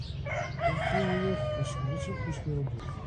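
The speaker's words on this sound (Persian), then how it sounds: "آنی خروزه" Rooster crowing among chickens and ducks gathered in a poultry enclosure, a drawn-out crow rising over steady low background noise and clucking, with talk around it.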